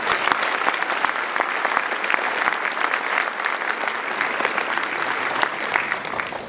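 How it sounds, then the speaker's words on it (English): A conference audience applauding the event's volunteers, dense steady clapping from a large crowd that carries on evenly throughout. "give a round of applause to our amazing volunteers that put this conference together"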